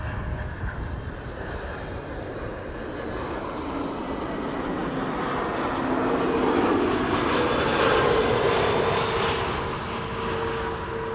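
A jet airliner on approach to land at Amsterdam Schiphol Airport makes a steady, broad engine roar. It swells gradually as the plane nears and passes, then holds, heard from a moderate distance outdoors with no voices.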